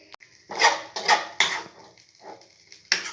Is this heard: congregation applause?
no